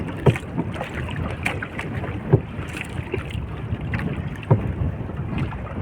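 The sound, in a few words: strong wind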